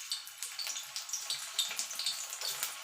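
Potato pieces fry in hot mustard oil in a pan, giving a bright, continuous crackling sizzle with rapid popping bursts, close and alone without voices.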